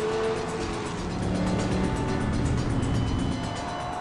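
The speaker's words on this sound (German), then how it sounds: "Das Öko-Vollgas-Tier klingt so, wie man es von einem Sportwagen der 550 PS-Liga erwartet." BMW AC Schnitzer 3.10 GP sports car with a 550 hp V10 engine, a steady, loud roar heard close and continuous throughout, with no talk.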